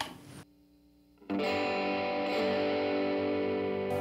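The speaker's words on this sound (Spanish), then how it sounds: "si activamos el canal 2 con el overdrive 1, suena de esta manera." An electric guitar through a Blackstar Dept. 10 Dual Distortion pedal on channel 2, overdrive 1, rings out a quiet note, then a loud, thick overdriven chord that sustains steadily.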